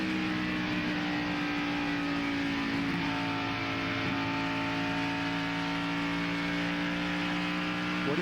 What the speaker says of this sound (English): Let's listen to the throttle.